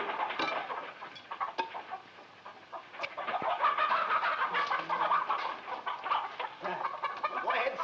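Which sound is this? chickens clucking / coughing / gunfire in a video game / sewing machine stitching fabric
chickens clucking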